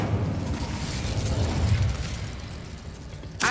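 Incendio fire spell cast in Hogwarts Legacy, a loud roaring burst of flame that holds steady, then thins out before a sharp crack at the end, with no voices.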